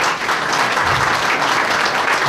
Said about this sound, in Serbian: Nam se zaslužuje jedan veliki aplauz.